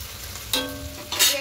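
Spices fry in a pan for a fish curry as a spoon stirs them. Two short bursts of sizzling and scraping sound close and fairly loud.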